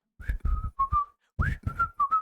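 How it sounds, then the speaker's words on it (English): Someone whistles a short, bright tune close up, a series of clear sustained notes broken by brief pauses, with nothing else around it. "Whistling out here."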